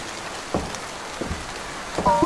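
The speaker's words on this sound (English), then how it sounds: "It's bucketing down outside." Heavy rain in a video game set in Louisiana makes a steady hiss outside, with a few soft knocks and a brief tonal chime at the end, moderately loud and without speech.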